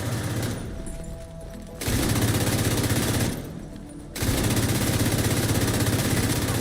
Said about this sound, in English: if I just barely tap that trigger, it shoots